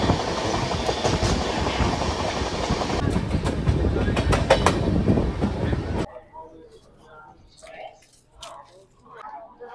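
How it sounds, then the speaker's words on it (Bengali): An express train rolling on rails after leaving New Alipurduar Junction, a loud steady rumble with rhythmic clickety-clack that cuts off abruptly partway, followed by quiet sparse sounds. "আমাদের ট্রেন নিউ আলিপুরদুয়ার জংশন থেকে ছেড়ে দিল।"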